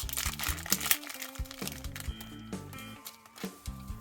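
A plastic bag flap on Sentai Gear toy packaging crinkles in quick irregular bursts, close and crisp, with a few louder crunches in between.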